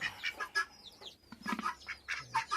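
Several chickens cluck and squawk close by in quick, overlapping bursts, with a faint whistling call in the background.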